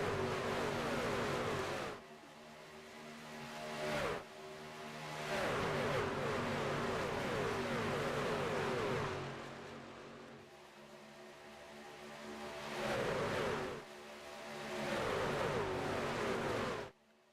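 Racing trucks in the Doghouse Racing League Tuesday Night Truck Series roar down the backstretch, loud engine surges rising and falling in repeated waves as the pack passes, with no talking over them.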